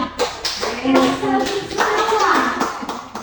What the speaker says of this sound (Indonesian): Tepuk tangan Bapak Ibu ya.